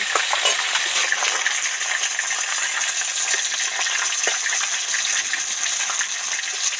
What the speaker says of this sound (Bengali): টাটকা মাছ হলে আমি কড়াতে একসাথে সব দিয়েই ভেজে নিচ্ছি